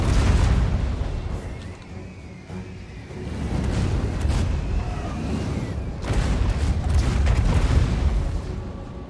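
Hellcannon artillery firing in a Total War: Warhammer battle, producing sustained loud, booming explosions that roll continuously under the battle din.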